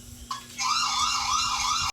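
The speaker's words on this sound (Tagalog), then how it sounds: "click mo lang tong parang ilaw para mag-alarm siya" A loud siren-like emergency alarm from a light-bulb dual security camera wails in a steady rising and falling tone over a low background hum, then cuts off abruptly.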